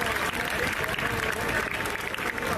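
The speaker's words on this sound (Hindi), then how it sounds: "जोरदार तालियां आया बच्चों का" A crowd claps at a Ram Leela Dussehra mela performance of Sita Swayamvar, a thick, continuous burst of applause with some crowd noise beneath it.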